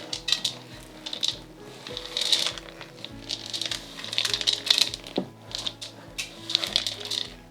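Chocolate chips are stirred into thick coconut bar batter in a bowl, giving repeated scraping clacks and clicks of a utensil against the dish, close by and uneven in rhythm, with no speech.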